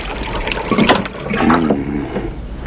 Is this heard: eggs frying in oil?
no